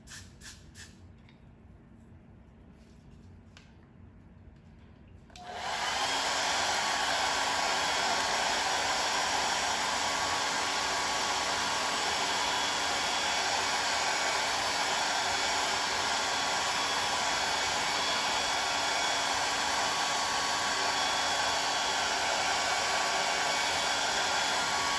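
A handheld blow dryer drying a wig kicks on after a few seconds of quiet room noise, then roars loud and steady with a constant high whine for the rest of the time.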